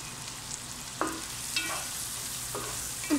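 Carrots frying in a pan sizzle steadily while being stirred, with a few distinct scrapes and clatters of the utensil against the pan, close and moderately loud with no talking.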